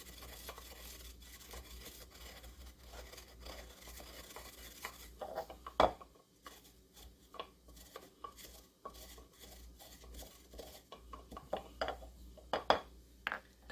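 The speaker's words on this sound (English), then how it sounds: "I got my pestle and mortar out because this is not finely ground, and I just want to grind it up a little bit more." A pestle works fajita seasoning in a mortar, giving soft scraping and grinding strokes with sharp clacks and knocks of hard utensil against bowl, fairly quiet and irregular.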